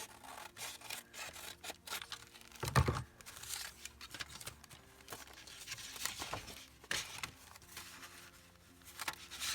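Book page paper is cut and handled during a paper craft. The sound is faint and close: rustling, crinkling and tearing-like snips in irregular bursts, and nobody speaks.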